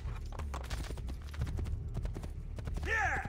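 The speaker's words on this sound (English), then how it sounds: "Can I get on the horse, please?" Horse hooves clip-clop in Assassin's Creed II, a steady trot under game music and ambience, with a short whinny near the end.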